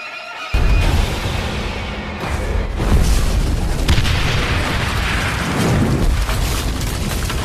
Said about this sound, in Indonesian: lalu terjadilah sebuah ledakan